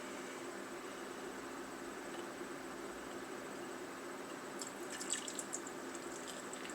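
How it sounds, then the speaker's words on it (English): Hot water pours quietly into a small teapot for tea, a soft steady trickle with a few faint drips near the end and no voices. "I already heated some tea, so I'll pour some water in here,"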